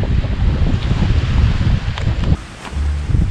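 Cool wind blows across a tent campsite at Khao Laem Ya National Park, loud gusty rumbling on the microphone with a brief lull before it picks up again.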